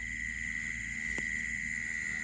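Frogs calling at night near frog traps set in a rural wetland, a steady high droning chorus with insect-like buzzing, even and continuous throughout, fairly faint and unbroken by talk.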